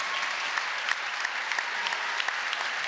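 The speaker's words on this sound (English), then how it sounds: "Give them a round of applause" Audience applause at a celebration event, a dense steady crackle of many hands clapping throughout with no break, fairly close and even in level.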